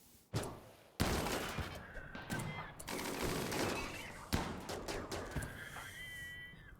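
A weapons turret fires in the video game Rimworld aboard a ship, producing irregular bursts of gunfire and impacts with some clattering, fairly quiet and mixed with game ambience.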